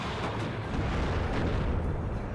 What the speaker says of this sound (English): It wasn't a bombing run. It was targeting this MTLB right here.